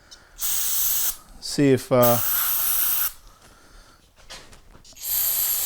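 A spray can hisses in sharp bursts as parts from a 1987 Chevy R10 fuel system are hosed down, with short ratcheting rattles of the can between sprays and brief speech in the middle.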